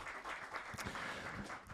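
Audience applause at an MMA press conference, a brief spread of clapping from the crowd at moderate distance, fairly faint and continuous.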